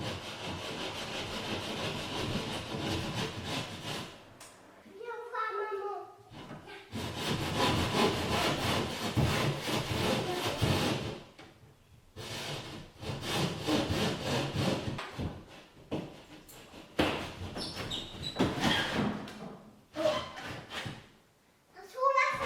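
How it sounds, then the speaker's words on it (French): A handsaw cutting through plasterboard while opening a window in a timber-frame house, with long stretches of rough rhythmic back-and-forth rasping broken by short pauses, and a voice speaking at times. "En coupant ainsi le placo"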